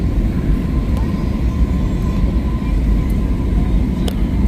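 An airplane comes in to land, a steady loud low cabin roar of engines and airflow that holds constant throughout with no talk.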